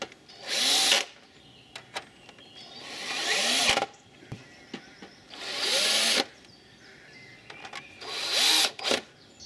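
Screws driven in with a cordless drill while fitting batteries into an APC UPS, four short whirring bursts spaced a couple of seconds apart, close, with small clicks and handling noises between them.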